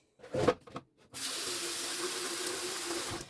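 Water runs steadily from a tap into a sink while rice is rinsed, with a soft hissing splash, after a few brief clinks and handling sounds at the start.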